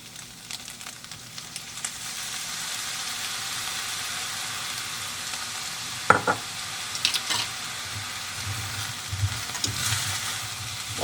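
Paprika and lemon juice sizzle steadily in a hot pan, a constant frying hiss with a few brief stirring scrapes and clinks near the end, close and moderately loud with no talking.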